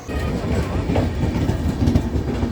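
A train runs at Bolpur railway platform, producing a loud, continuous low rumble with rhythmic clickety-clack of wheels over rail joints.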